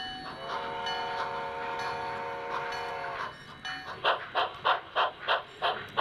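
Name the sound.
steam trains moving through rail yards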